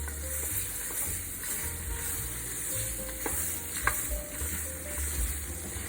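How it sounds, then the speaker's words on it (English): Vegetables stirred in hot oil, a continuous close sizzle with occasional scraping and clinking from the stirring, no talk. "Okay, stir it around. Make sure you get the oil coated on all of the vegetables here."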